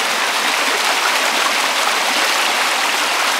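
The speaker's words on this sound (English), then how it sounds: "You got the little babbling of the brook there" A babbling brook runs over rocks at Lake Padden Park, recorded close up as a loud, steady, broadband rush of flowing water with no pauses and no voices.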